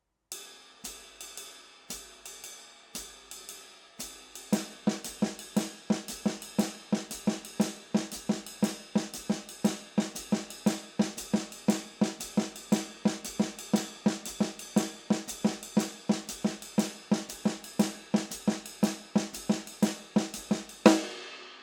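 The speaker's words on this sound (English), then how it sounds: "We get this really nice lacing effect between the snare and the rhythm played on the ride cymbal." A drum kit plays a swing pattern on the ride cymbal against snare quarter-note triplets, a steady stream of close, crisp hits with sparse strokes at first, then a dense interlocking groove ending on a louder crash.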